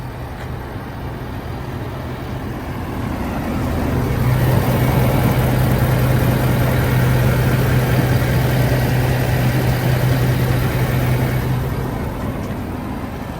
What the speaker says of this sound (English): Diesel motor.